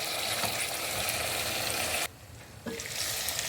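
Chicken gizzards with pepper sizzling in a pan just after stock is added, a loud close steady hiss and crackle that briefly drops when the pan is covered, then resumes.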